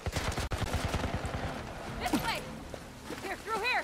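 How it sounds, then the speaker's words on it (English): Gunfire in The Last of Us Part I video game comes as a rapid burst of repeated shots in the opening second and a half, followed by scattered game sounds and people talking over it. "That's a lot of bullets for one dude."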